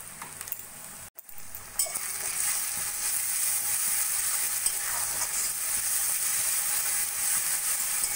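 Ginger-garlic paste with chili and Kashmiri chili powder fries in a pan with a steady, close hiss and sizzle, a brief scrape of stirring early on, no voices.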